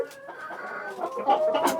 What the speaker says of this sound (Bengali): ইকবাল ভাই মুরগিটা কতদিন ধরে আছে আপনার কাছে